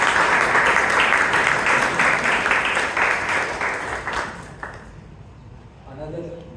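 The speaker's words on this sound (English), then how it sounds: "you can give him a quick round of applause once again." Audience at a Toastmasters club meeting giving a round of applause after a speech, loud close clapping that fades out after about five seconds, leaving near silence with a brief voice at the end.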